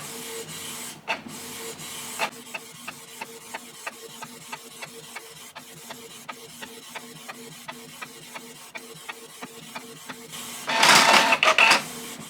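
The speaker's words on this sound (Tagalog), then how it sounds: "Nagte-test print na po tayo ng brochure ng King's Herbal Plus." A Canon G1010 inkjet printer test-prints a brochure, giving a steady run of evenly spaced mechanical clicks and carriage strokes, with a louder whirring burst of paper feed near the end; no voices.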